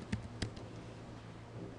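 A few soft keystrokes on a computer keyboard, two distinct clicks early and then faint tapping, quiet and alone during a username and password entry.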